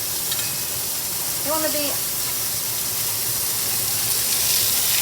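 Burgers frying at very high heat on a hot surface, a steady broadband sizzle throughout with a person talking over it.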